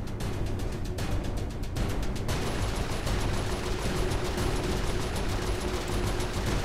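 Rapid turret gunfire in Saints Row IV rattles continuously at close range, a dense, steady stream of automatic shots with no talking over it.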